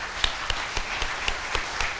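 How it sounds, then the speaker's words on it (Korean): A ceremony audience at an inauguration for a new association president applauds, with a dense wash of clapping and a steady rhythm of sharper claps about four times a second, fairly loud and continuous. "참 어머님께 큰 감사의 박수를 올려주시기 바랍니다"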